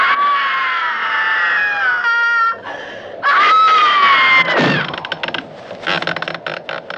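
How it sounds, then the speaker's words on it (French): A woman screams in distress during the brutal opening scene of the horror film Witchfinder General, with no music. Long, wavering, piercing cries break off briefly and then resume, with rough shouting and commotion behind them. "Des cris de détresse ouvrent le film avec une scène particulièrement brutale et violente, crue, saisissante et sans musique"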